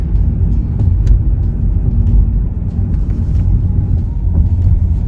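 A car passes along a road in dense morning fog, heard as a steady, close engine and tyre rumble that holds evenly throughout with no talking.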